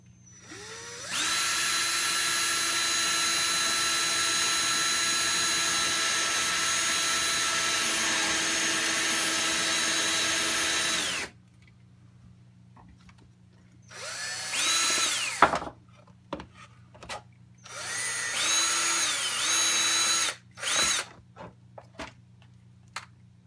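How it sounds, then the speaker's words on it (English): A power drill bores a hole through a plastic dosing container backed with wood, one long steady whine of about ten seconds followed by several shorter bursts and stops, loud and close with no talking. "I'm going to back it with some wood just to give a nice clean hole."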